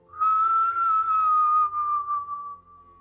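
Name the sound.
whistle imitating incoming missile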